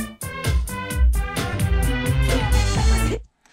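A full synthesizer arrangement recreating a song, with driving percussion and deep bass, loud and dense, playing steadily for about three seconds before stopping abruptly.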